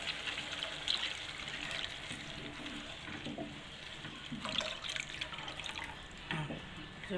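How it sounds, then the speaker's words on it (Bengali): Water pours into spice paste frying in oil for a Bengali fish egg curry, a continuous soft splashing and bubbling hiss under a faint background murmur. "এখন জল দিয়ে দেবো।"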